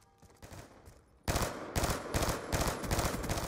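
Loud rapid gunfire in a shooter video game bursts in after a quieter opening with scattered faint shots, continuing as sustained automatic fire with brief dips.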